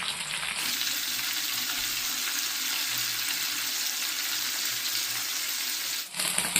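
Small anchovies sizzle steadily in hot oil in a home kitchen, a dense, even crackle of frying running unbroken for several seconds before cutting off abruptly near the end.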